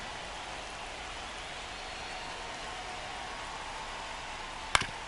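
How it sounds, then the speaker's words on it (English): Steady rain falling on a baseball game in the MLB 25 video game, a constant even hiss of downpour, with one brief sharp click near the end. "This rain is not letting up."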